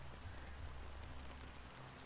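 Fine, steady rain hisses softly and evenly in the video game Honkai Star Rail, a faint continuous patter heard alone without any voices.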